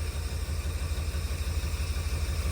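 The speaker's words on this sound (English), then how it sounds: "As you can hear, the motor's kind of running pretty rough" An old GMC truck motor runs rough with an uneven, lumpy low pulsing, close and steady throughout, with no voices.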